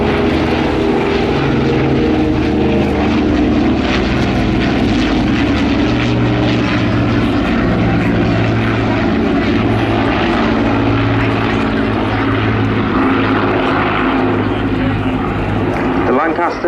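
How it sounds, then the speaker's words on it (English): A Dakota and a Lancaster fly past in line-astern formation at the RAF 100 Cosford Air Show, their piston propeller engines droning loudly and continuously with a steady throb, while a commentator talks over the noise. "we see the Dakota and the Lancaster in the line of stern formation for the second time, coming at D1"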